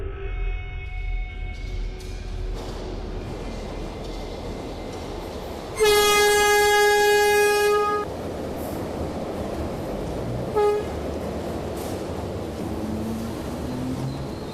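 Train sound effect for a Bengali audio drama: a continuous rumble of rolling rail cars under a loud two-second horn blast midway, then a brief shorter horn toot later, close and dominant, no voices.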